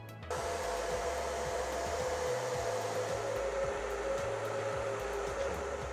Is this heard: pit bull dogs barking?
no